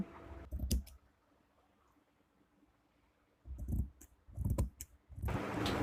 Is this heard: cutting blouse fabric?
yes